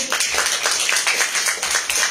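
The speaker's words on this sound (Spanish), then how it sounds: "Les pido un fuerte aplauso para recibir al doctor Gilardo Linares Plasencia" An audience at a conference applauds to welcome a speaker, a brief, dense wash of many hands clapping at once.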